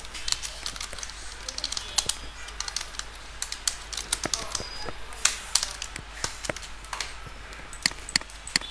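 Rapid typing on a computer keyboard during a graphic design class, with dense, irregular key clicks running steadily throughout at moderate loudness, close to the microphone.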